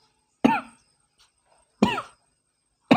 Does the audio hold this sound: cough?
yes